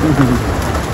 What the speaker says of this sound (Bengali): শিলাবৃষ্টি পড়ছে